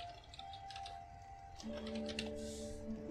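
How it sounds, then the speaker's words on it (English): Soft, close keyboard clicks from typing on a computer keyboard, a quick run of light taps over a steady sustained game music tone. "have to use the keyboard for this"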